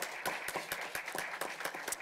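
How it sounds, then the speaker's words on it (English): A small audience at an infectious diseases panel event gives a round of applause: distinct, fairly sparse claps in an uneven rhythm, moderately close, with no talking over them. "Let's give him a round of applause, shall we?"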